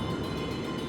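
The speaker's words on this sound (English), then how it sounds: "Train? A train?" A train rolls by in the anime series Paranoia Agent, a brief steady rumble of wheels and carriage noise, loud and continuous, with no voices over it.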